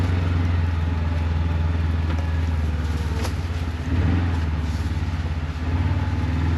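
A Yamaha FXT Pro 1000 Trail side-by-side UTV engine drones steadily under load while climbing a 20-degree hill, a continuous loud hum with brief dips near the end.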